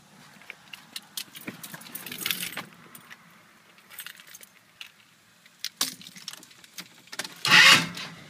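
A 1981 K10 pickup truck is cold-started: keys jangle and rattle near the ignition, then the engine cranks with a low rumble, ending in a louder burst as it catches.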